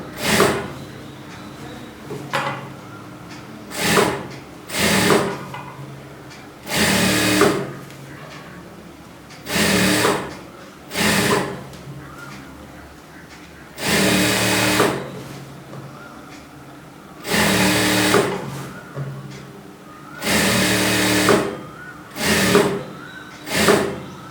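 Sewing machine stitching blouse pieces at a tailor's table, short bursts of mechanical whirring repeated a dozen or so times with quiet pauses between, close and moderately loud.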